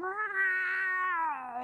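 Cartoon cat meow, a single drawn-out, wavering yowl heard alone and close for under two seconds.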